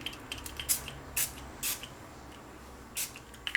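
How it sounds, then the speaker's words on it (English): A small spray bottle of fine alcohol mists onto homemade soap in several short, sharp spritzes, each a quick hiss separated by quiet pauses. "And then I'm gonna take my little spray bottle"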